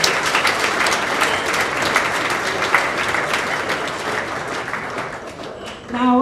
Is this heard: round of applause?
yes